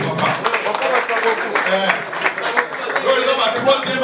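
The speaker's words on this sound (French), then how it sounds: "Est-ce qu'on peut applaudir pour papa?" Applause for an elderly man at a community gathering, a crowd clapping steadily for a few seconds with voices and babble mixed in.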